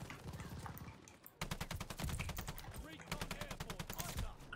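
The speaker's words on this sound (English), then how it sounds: "Oh, I'm getting shot from bottom there." Rapid automatic gunfire in the shooter Call of Duty Vanguard, several close loud bursts of fast shots with brief pauses between them, with in-game effects underneath.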